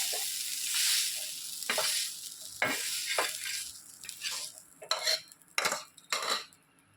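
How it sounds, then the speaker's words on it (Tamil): Prawns sizzle and fry in oil in a kadai, with a steady crackle broken by several sharp stirring scrapes and clinks of a utensil against the pan, close and fairly loud. "இறாவை போட்டுக்கிறேன். இறா கொஞ்சம் வதங்கட்டும்."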